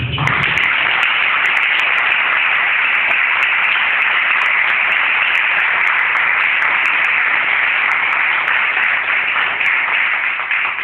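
A church congregation gives sustained applause during a sermon, a dense, unbroken wash of many hands clapping at an even, fairly loud level for about eleven seconds without talk.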